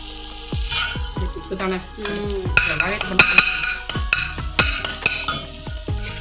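Steamed shark fish is stir-fried in coconut oil, with loud spatula scrapes and knocks against the pan repeating roughly every half second over a bright sizzle, close by and with no talking.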